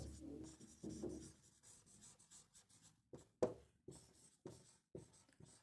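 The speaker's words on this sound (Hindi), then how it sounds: "अब और लिख देती हूँ" A pen writes on paper in short scratchy strokes and taps, close and quiet, in uneven bursts with small pauses between words.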